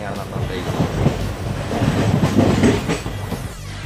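A train rolls through Mangalore Junction, where railway construction is underway, with a rumbling, clattering roar close by and wind buffeting the microphone.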